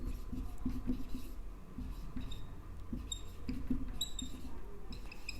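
Chalk or marker writing on a board during a polynomial lesson, with short scratchy strokes and taps in uneven bursts over a low room hum.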